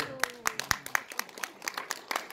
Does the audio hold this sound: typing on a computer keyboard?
no